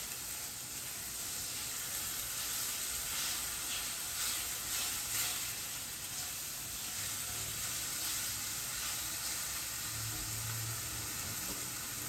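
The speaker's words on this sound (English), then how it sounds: "And I see we have some bubbling." Chicken fries in a pan, a steady soft sizzle and faint bubbling crackle running evenly throughout at low volume, with no voices.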